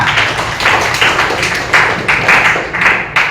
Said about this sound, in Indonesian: Kasih tepuk tangan buat Habibah